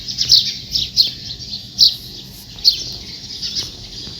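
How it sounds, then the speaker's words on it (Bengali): Sparrows in trees on a rooftop give sharp, close chirps in irregular bursts over a quiet morning background, with no speech. "এই গাছের ভিতরে আপনার চড়ুই পাখিগুলা"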